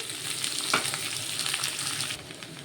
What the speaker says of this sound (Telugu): ఆనియన్ అయితే ఫ్రై అవుతుంది